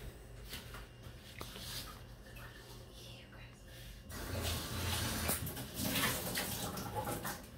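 Water carrying sand and sediment is poured out of a container in an erosion lab, a continuous splashing gush that swells louder partway through, with a voice briefly audible underneath.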